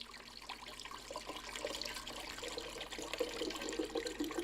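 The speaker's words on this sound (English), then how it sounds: "in my trusty Omega blender, I'm going to add about 2 cups of coconut water." Coconut water is poured into an Omega blender, a continuous splashing stream that builds slightly in loudness over several seconds, close and clear with no talking.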